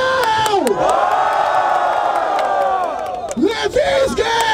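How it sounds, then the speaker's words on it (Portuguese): A large crowd at a freestyle rap battle cheers and shouts loudly and continuously, with whoops and rising yells swelling throughout. "Barulho para as rimas do Refel"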